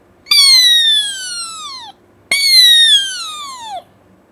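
A boy imitates an eagle's call with two long, loud, descending whistled screeches, one after the other with a short gap between.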